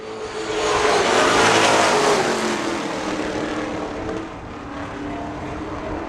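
Pro stock race cars roar past on an oval track, a loud engine swell that peaks as the pack passes close, then fades to a lower, steadier drone as they move away.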